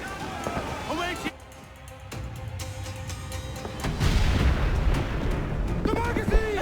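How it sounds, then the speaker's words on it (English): Cannon broadside from a sailing warship in Assassin's Creed IV Black Flag, heavy booms swelling into a loud rumbling roar in the second half, with shouted voices and game music over it. "We'll give a good broadside! Ready! Fire!"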